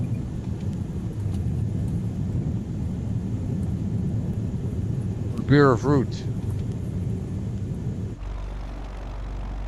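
A propeller airplane engine drones steadily throughout a flight sim run into a tornado, a continuous low hum with a brief burst of voice over it midway before the engine tone shifts near the end.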